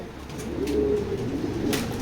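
Close, soft cooing from racing pigeons rolls on in overlapping throaty phrases, steady and unbroken, with a faint wing flutter or two.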